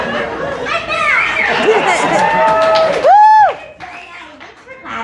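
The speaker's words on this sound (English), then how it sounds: "Thanks for clapping and being supportive" An audience at a comedy talent show cheers and chatters loudly, with excited voices rising over the crowd and a sharp shout breaking through near the middle.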